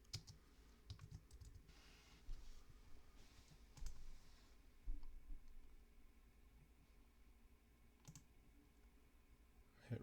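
Typing on a computer keyboard while entering genealogy record details, steady close clicking in uneven bursts with short pauses, no voices.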